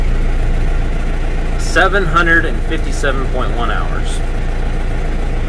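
A 20-year-old John Deere 6420 tractor idling steadily after starting, a loud, even diesel rumble with a constant low throb that runs throughout while someone talks briefly over it.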